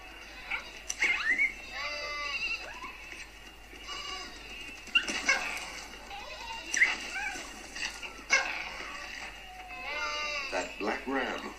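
Sheep flock with a black ram, several animals bleating and wavering in repeated calls, near and fairly loud, over a steady low background hum.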